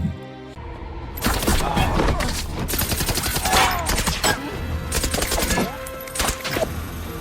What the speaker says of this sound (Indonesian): Namun dalam situasi yang tidak terduga, Samuelson terkena tembakan